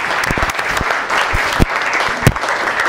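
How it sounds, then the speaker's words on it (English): An audience at a boxing awards night gives a burst of clapping, loud and dense throughout, with a few sharper individual claps standing out. "Clap."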